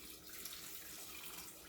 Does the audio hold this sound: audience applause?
no